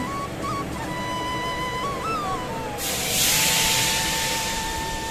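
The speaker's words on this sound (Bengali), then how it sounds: "দেখুন এখানে মায়ের জন্য ভোগ রান্না হচ্ছে সব" Bhog offering being cooked in a Barrackpore temple kitchen for the Annapurna shrine, a steady broad hiss of steam and frying that swells louder partway through, with a thin high tone running across it.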